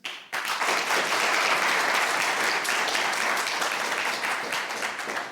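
A studio audience at a comedy game show bursts into loud, sustained applause, dense clapping that starts abruptly and stays full for several seconds before easing slightly.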